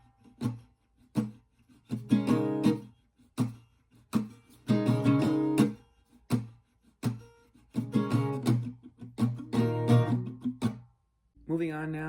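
Close acoustic guitar playing the first half of verse 1 of a song, a steady down-up strumming pattern with short muted gaps between strummed phrases, running about twelve seconds without talk.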